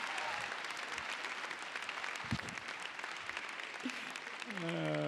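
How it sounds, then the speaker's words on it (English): A crowd at a winter commencement ceremony applauds a dancer, with scattered clapping and cheering under faint voices. A rising tonal sound enters near the end. "Give him a round of applause, man."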